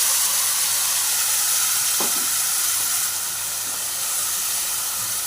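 Mustard and poppy seed paste sizzles steadily in a pan over melted tomatoes, a continuous bright hiss with one brief scrape of stirring near the middle and no voices.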